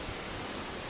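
Water rushes steadily at the Ezhakkaranadu waterfalls, a continuous broadband hiss, fairly faint and unbroken, with no voices.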